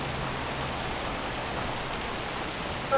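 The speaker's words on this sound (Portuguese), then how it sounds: "a chuva caindo aí" Rain falls as a dense, even hiss with no distinct drops standing out, steady throughout.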